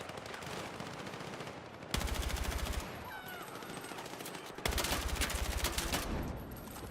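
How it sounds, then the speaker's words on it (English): Rapid automatic gunfire in the Helldivers video game, two loud sustained bursts of fast shots standing out over a constant background of game noise, with softer ambient effects between them. "Dude, I keep shooting."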